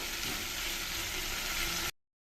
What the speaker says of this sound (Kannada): ಈಗ ಇನ್ನೊಂದು ಟೊಮೆಟೊ ಒಗ್ಗರಣೆ ಸೇರಿಸ್ತಾ ಇದ್ದೀನಿ ಟೊಮೆಟೊ ಎಲ್ಲ ಸ್ವಲ್ಪ ಚೆನ್ನಾಗಿ ಮೆತ್ತಗಾಗೋವರೆಗೂ ಇದನ್ನು ಸ್ವಲ್ಪ ಫ್ರೈ ಮಾಡ್ಕೋಬೇಕು